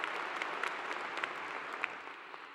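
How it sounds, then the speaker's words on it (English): Steady applause from a large graduation ceremony audience at a university fall commencement, a dense wash of many hands clapping at moderate distance, continuous and even throughout with a few sharper claps standing out. "Will you also please give a big round of applause for Alana Yarborough for the great job she d"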